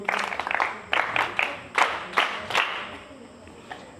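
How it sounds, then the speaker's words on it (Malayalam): An audience at a health talk on preventing lifestyle diseases claps in a brief burst of scattered hand claps that soon thins out and fades to quiet. "എല്ലാവരും ക്ലാപ്പ് കൊടുക്കും"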